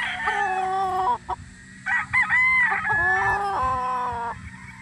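A rooster on a farm crows loudly and nearby in long drawn-out calls, with chickens clucking in between, and the birds fill the whole few seconds without any talk.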